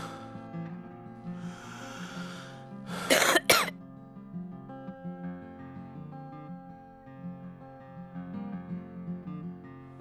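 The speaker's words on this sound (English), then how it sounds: "Can you have a big deep cough for me?" A single deep cough from a child bursts out briefly, close by, over a steady hum of background tones, then quiet returns.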